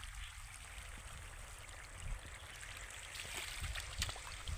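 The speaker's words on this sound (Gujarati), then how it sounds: "જુઓ પાણી પણ ચાલુ જ છે." Irrigation water runs steadily through a channel in a cumin field, a continuous outdoor trickle and gurgle with a low rumble of wind, and slight swells near the end.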